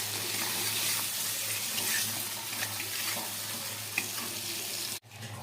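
Chopped ginger, garlic, green chilli and tomato stir-fried in a pan, giving a continuous watery hiss and sizzle with faint stirring taps, cut off abruptly just before the end.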